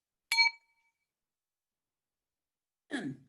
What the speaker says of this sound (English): was that the closing bell?